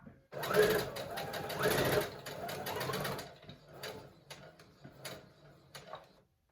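Domestic sewing machine stitching a fabric face mask, loud steady whirring runs in bursts for about three seconds, then stops and gives way to quieter clicks and handling noises.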